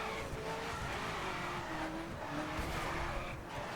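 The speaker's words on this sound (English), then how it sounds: "once you get it into a drift, you sort of slide through the corners" A big, heavy white car drifting through corners in the racing game The Crew, engine roaring steadily with tire screech and skid noise throughout.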